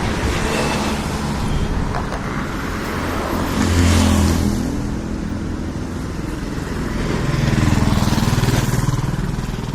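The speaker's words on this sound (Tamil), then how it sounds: "இதோ பஸ்ஸெல்லாம் நிறையா போகுது" Traffic and buses on East Coast Road, a two-way road where vehicles run fast, roaring past close by in a continuous loud wash with two heavier passes swelling up, no talk.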